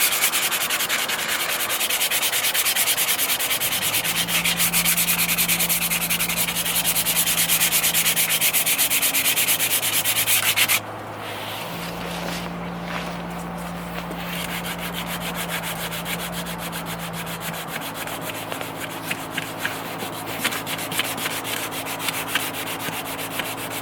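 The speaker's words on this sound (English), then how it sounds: "we'll step down the grit to an 80 grit and then come back and use the 240 grit" An alloy wheel is sanded by hand with 240 grit sandpaper, a continuous close, loud scratchy rubbing that pauses briefly about halfway, then resumes more quietly with a faint hum in the background.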